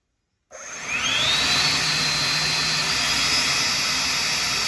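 A Makita cordless vacuum cleaner switches on after a moment of silence and ramps up to a loud, steady high-pitched whine with a rising tone that settles into a constant close drone, with no talking.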